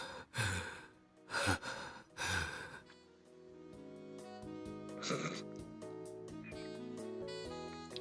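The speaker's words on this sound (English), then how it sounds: "Breathing intensifies." Three heavy, rasping breaths come close and loud, each a long gasping rush of air with short pauses between, followed by soft instrumental music playing alone.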